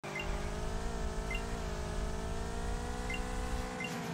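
A race car in the Drive World video game boosts along a race circuit with a steady, droning engine tone that holds one pitch throughout and shifts only slightly, loud and close, with no one speaking.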